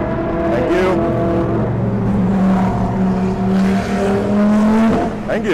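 A prototype race car sweeps past at Laguna Seca during an IMSA sports car race, its loud engine note rising and shifting in pitch as it goes by, with a steady roar and no talk.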